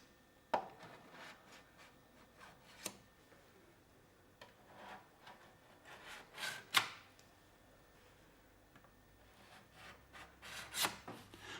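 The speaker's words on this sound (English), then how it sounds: "the filled surfaces are rubbed down until smooth" Hand sanding of oil-filled furniture surfaces after the filler has dried, with intermittent soft rasping strokes and occasional sharp knocks, quiet and close, with no talking.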